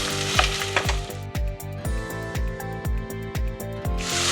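Roughly chopped onions frying in hot oil for veg pulao, with a close, steady sizzle and a rhythmic tonal clatter repeating through it, no voices.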